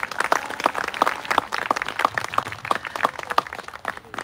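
A modest audience claps at a memorial ceremony marking a labour martyr's 14th anniversary. A few distinct hand claps sound in a loose, fairly regular rhythm over sparse background clapping, close and moderately loud.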